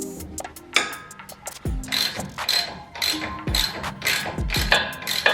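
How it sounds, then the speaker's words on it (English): Breaker bar and socket working a 19mm nut loose on a Toyota Tacoma's front suspension during a coilover lift install: a string of short ratcheting clicks and metallic knocks close by, with a couple of deeper thuds. "Next, we're going to remove this nut, which is a 19mm. I will be needing the breaker bar for this."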